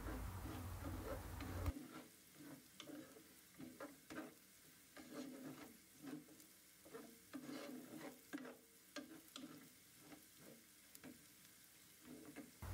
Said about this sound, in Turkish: Evet, pirinçlerimiz topak olana kadar kavuralım.